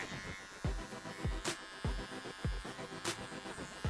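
An electric hair clipper with a 1 guard fading a beard hums steadily, with a rhythmic series of short strokes and occasional sharper contact bursts, close and fairly quiet, with no talk.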